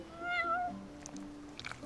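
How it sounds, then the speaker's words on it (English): A cat in the video game Final Fantasy XV gives one drawn-out, rising-and-falling meow up close. Faint soft game sounds and brief chimes follow it. "You're one spoiled cat."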